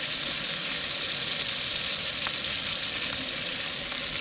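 Food sizzles steadily on a barbecue at an outdoor wild camp in a Scottish forest, a dense, continuous frying hiss with no voices, holding close and even throughout.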